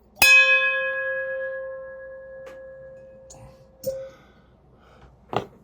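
A single bell is struck four times in a quiet room: one loud ring that fades slowly, then three fainter strikes spaced about a second or more apart.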